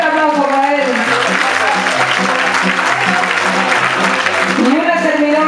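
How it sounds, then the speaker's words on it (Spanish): Audience applause at a mariachi performance honouring a trumpet player, a loud sustained clapping with crowd noise while someone speaks over it on a microphone. "nuestra segunda trompeta, Juan Manuel Mateo, un fuerte aplauso para él."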